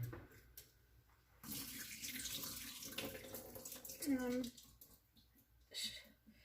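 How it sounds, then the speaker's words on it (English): Liquid from canned potatoes pours out at a kitchen sink, a running, splashing stream lasting a few seconds with a brief gurgle, while a person talks quietly around it. "I'm opening up the cans of potato and I'm getting rid of the liquid"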